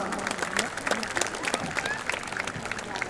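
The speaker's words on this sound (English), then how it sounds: "Audience, please give them a huge round of applause." Audience applauding award-winning school staff at an annual day celebration, scattered clapping that stays moderate and uneven, with voices murmuring and talking over it.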